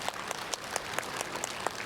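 Scattered audience applause at a Korean talk show, fairly faint and thin, with sparse claps rising in small peaks over a steady soft wash of noise.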